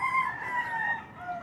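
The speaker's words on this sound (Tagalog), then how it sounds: "Gusto niyo ba makakita ng tumitilaok na manok?" A rooster crows in a long, drawn-out call, loud and close, with no other sounds over it.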